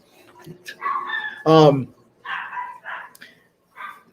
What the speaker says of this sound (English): the attack chihuahua is barking